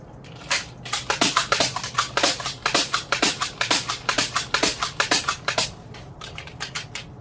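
A Nerf Maverick blaster fires foam darts in a fast, steady run of sharp plastic clacks and snaps, about two per second. The shots are close and loud over a low background hum.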